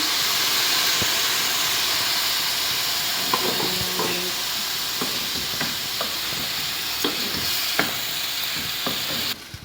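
Wine poured into a pan of squid and zucchini risotto, a steady loud sizzle and steamy hiss throughout, with scattered clinks and scrapes of a spoon stirring against the pan.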